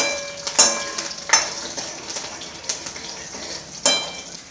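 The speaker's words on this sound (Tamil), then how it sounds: "இந்த பூண்டு பொறிஞ்ச உடனே வெங்காயத்தை போட்டுக்கலாம்" Garlic sizzling in hot oil in a pan, a soft steady crackle with a few sharp clinks of a spoon or utensil against the pot, close and quiet.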